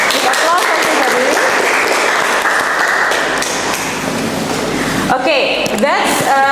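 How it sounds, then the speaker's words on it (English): Audience of students applauding after an English presentation in a classroom, sustained lively clapping with voices mixed in, followed by scattered shouts and cheers toward the end. "Applause everybody."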